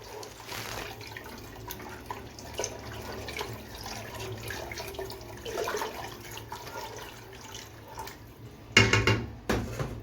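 Water running and splashing into a cooking pot in a home kitchen, a steady low wash of liquid noise, followed near the end by a brief louder clatter of the pot or lid.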